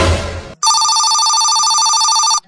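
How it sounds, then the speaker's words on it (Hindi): A telephone rings with a steady electronic tone for about two seconds, loud and close, after a brief burst of noise. "अरे फोन आ रहा है, पुलिस वाला का होगा।"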